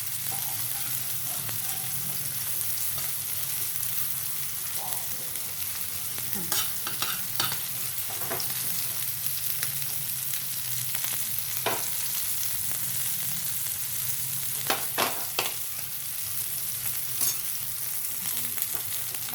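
Mandeli fish, coated for a crisp Malvani-style fry, sizzles in hot oil in a continuous hiss, broken now and then by brief clinks and stirring scrapes.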